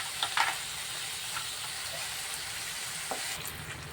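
Soy sauce, vinegar and chili sauce hiss and sizzle hard as they hit fried potatoes in a hot pan for honey chilli potato, a constant bright crackling with a few sharper pops.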